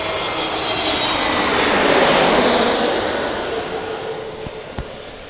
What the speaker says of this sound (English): So then Jet2, Airbus A321 coming in from Funchal.